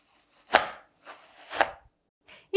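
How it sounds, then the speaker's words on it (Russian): Apple being pressed through a ring-shaped corer that removes the core and cuts the fruit into wedges, heard as two firm crunching cuts about a second apart with a third starting at the end, close and without talk. "Удаляю сердцевинку я при помощи вот такой нехитрой штучки. Она еще дополнительно режет яблоко на дольки."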